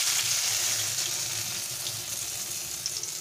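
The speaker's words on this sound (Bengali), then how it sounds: "আস্তে আস্তে মাছগুলো ছেড়ে দেবো, একটা একটা করে ভেজে নেব।" Tilapia fish pieces fry one at a time in hot oil in a pan, a close, steady crackling sizzle that runs without pause, with no voices.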